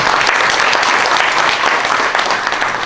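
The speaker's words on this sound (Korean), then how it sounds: "병중에 계신 유산 선생님과 안소정 총재님 두 분께 우리들 모두의 감사의 마음을 담은 박수를 한번 크게 쳐주시면 감사하겠습니다." An audience at a formal ceremony for Korean painting breaks into sustained applause, a dense, loud, even wash of many hands clapping that carries steadily from start to finish without speech.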